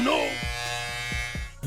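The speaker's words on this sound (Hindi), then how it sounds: "इस बच्चे ने ट्रिमर अपने हाथ में ले लिया और बाल काटने लग गया" An electric hair trimmer buzzing steadily close by as a child cuts hair, a constant high-pitched motor whine with a few brief dips in pitch as it bites into the hair.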